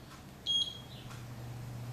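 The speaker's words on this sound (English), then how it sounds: "The alarm will indicate timing has begun." A Gymboss interval timer gives one short, high electronic alarm beep as timing begins, clear and fairly loud against a low steady hum.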